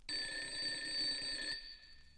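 A telephone bell rings loudly in one sustained burst of about one and a half seconds, then cuts off and leaves a faint tail. It sounds during a storyteller book-and-record segment with a haunted theme.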